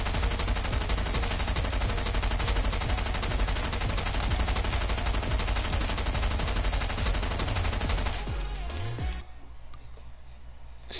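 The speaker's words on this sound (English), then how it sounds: "I couldn't hear you because all the gunshots that were happening" Rapid gunfire and gunshots in the Fortnite video game, dense continuous bursts of automatic fire that cut off abruptly near the end, leaving a quieter tail.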